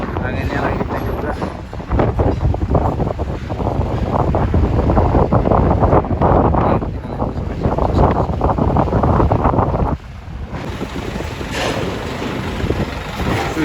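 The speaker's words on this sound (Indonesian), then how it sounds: "Cuacanya lagi nggak mendukung banget ini. Anginnya lagi kencang juga." Strong wind roars across the microphone at Merak harbour amid bad weather with waves, a loud sustained buffeting that briefly eases near the end, with a voice speaking under it.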